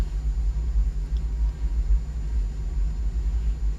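Deep, steady low rumble of a truck engine heard from inside the cab, continuous and droning with no talk over it.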